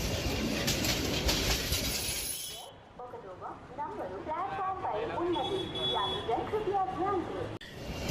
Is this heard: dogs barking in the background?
no